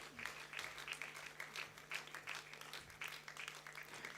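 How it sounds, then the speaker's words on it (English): Sustained applause fills a university convocation hall as an honours accounting and finance graduate is presented, a steady dense patter of many hands, moderately distant and even throughout. "Keep the applause going because we are now about to make the presentation."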